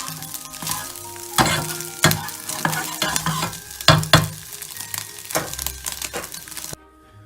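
Butter and scrambled eggs sizzle in a very hot pan, a steady close frying hiss broken by repeated sharp scrapes and clinks of a utensil stirring, ending abruptly with no talk.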